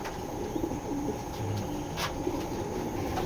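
A lively pigeon cooing softly against a constant background hum, with a few faint low coos and brief chirps at moderate distance.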